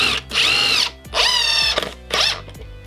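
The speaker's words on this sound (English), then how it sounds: "you want to take a screw and a drill and you want to screw it almost all the way in" A power drill drives a screw into a wooden board in three separate whirring bursts. Each burst is close and loud, with the motor pitch rising or falling, and there are short pauses between them.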